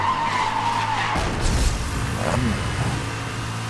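A car slides sideways through a drift in the racing game Need for Speed: Hot Pursuit (2010), with loud sustained tire squeal and skidding over a steady engine drone.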